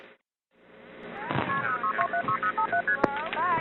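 Telephone touch tones on a phone line ring out in a rapid sequence of short, distinct beeps, with a sharp click partway through and faint talk underneath.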